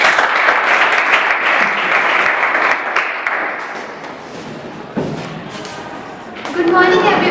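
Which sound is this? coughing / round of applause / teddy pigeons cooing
round of applause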